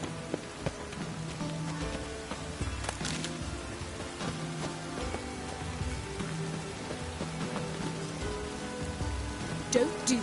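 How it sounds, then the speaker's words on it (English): Steady video-game rain makes a continuous patter and hiss. Scattered knocks and soft musical tones sound over it, with no speech. "Looks like rain."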